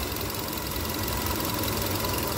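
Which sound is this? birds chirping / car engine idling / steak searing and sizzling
car engine idling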